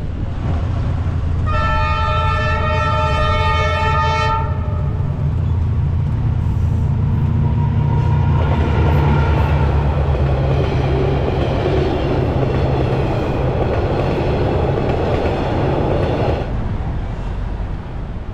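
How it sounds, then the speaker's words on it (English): A train passes a level crossing in Vietnam, opening with a loud sustained horn blast followed by the heavy rolling rumble and clatter of railcars going by close at hand. "Wow, level crossing. Train coming."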